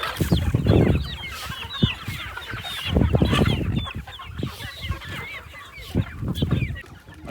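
A flock of chicks and hens clucks and chirps busily while pecking at scattered grain, with overlapping calls and bursts of louder clucking close by.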